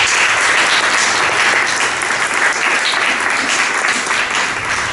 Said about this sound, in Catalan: I en primer lloc vull demanar un aplaudiment per a tots ells.